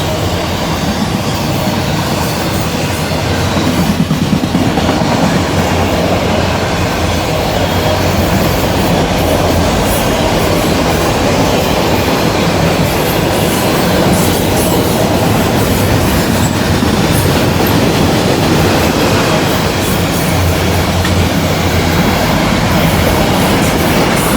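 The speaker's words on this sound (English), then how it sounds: "Every one of those cars is loaded with new cars." A long freight train loaded with new cars rolls past close by, a loud continuous rumble with rattling wagons and faint wheel squeal throughout.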